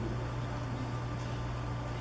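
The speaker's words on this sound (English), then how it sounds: "that is the hum of the fan I'm hearing." A fan hums steadily inside a church building, a constant low drone with a broad airy hiss that holds at the same level throughout, with no voices over it.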